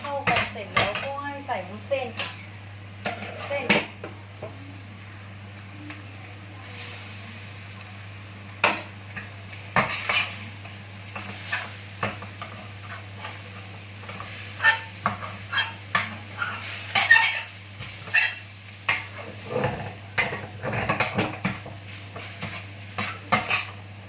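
Sukiyaki ingredients are stir-fried in a pan, with repeated scraping and clinking of a utensil against metal over a faint sizzle and a low steady hum. Voices speak briefly in places.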